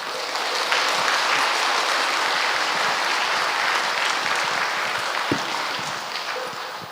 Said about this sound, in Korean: 법사 스님을 환영하며 큰 박수 보내드리겠습니다.